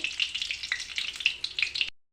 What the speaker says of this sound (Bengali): আমি 4-5টা শুকনো লঙ্কা দিয়ে দেবো তেলের উপরে